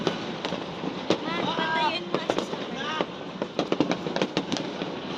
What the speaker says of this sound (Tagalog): Full of fireworks!